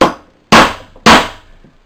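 Three evenly spaced, sharp hammer blows drive an ice pick against metal to mark a drilling point. Each close, loud tap fades quickly.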